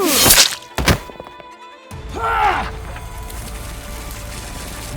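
An audio-drama impact for a thrown screw striking an attacker's eye: two sharp, close thwacks open the scene, then a short gap, then a whooshing, swelling effect with a low rumble beneath.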